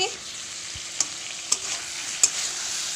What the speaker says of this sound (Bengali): মশলাটা ভালো মতো কষা কষা হোক